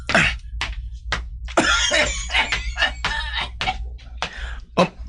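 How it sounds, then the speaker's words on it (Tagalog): A string of coughs and throat-clearing bursts, close and fairly loud, coming in uneven bouts over a low steady hum in a quiet indoor space. "May nag-ubo?"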